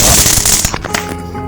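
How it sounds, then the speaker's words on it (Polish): A blue 30-gram firecracker detonates nearby in an outdoor New Year's Eve setting, a loud, sharp bang up front followed by crackling debris and a decaying rumble. "Przed nami teraz petarda taka niebieska, ona ma 30 gramów."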